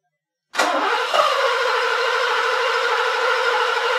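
A Mercedes 560SL engine cranks without firing during a first start attempt: a loud, steady mechanical churning that begins abruptly about half a second in and runs unbroken to the end, with no voices over it.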